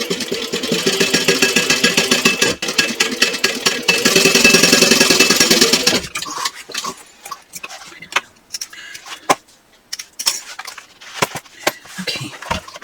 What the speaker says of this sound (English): now I'm going to sew across the bottom using a 3/8 inch seam allowance